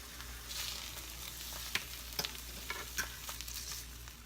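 Pork searing in a hot pan, a steady, bright sizzle and crackle with scattered sharper pops, close and continuous, with no voices.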